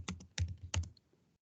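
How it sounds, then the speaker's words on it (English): Keys clatter on a computer keyboard as a command is typed into a CAD program's command line, three quick bursts of clicks close by, then a short quiet trail. "so we can type into the command line layer"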